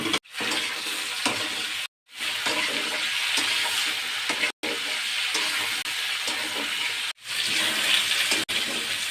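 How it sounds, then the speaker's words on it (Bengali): Loud continuous sizzling of potatoes and green plantain frying in oil, broken by a few brief silences, close and dense. "আলু কাঁচকলা ভেজে লাল লাল করে নিয়েছি"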